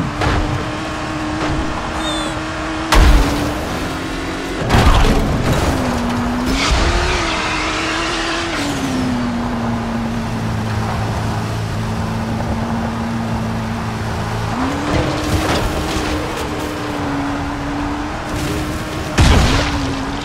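A car with worn tyres skids and squeals in Dying Light: The Following over a loud, steady engine drone, with several heavy thumps and bursts of impact noise along the way.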